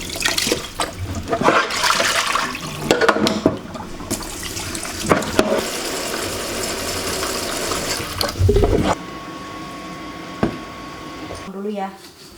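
Zucchini being washed under running tap water in a kitchen, a loud continuous rush of water with splashing and handling clatter, occasional speech, then the flow stopping near the end.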